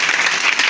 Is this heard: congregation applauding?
yes